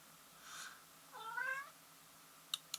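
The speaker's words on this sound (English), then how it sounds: "Sorry for my cat meowing at me." A house cat meows twice in a rising, drawn-out call, fairly close and alone, followed by a couple of brief sharp clicks.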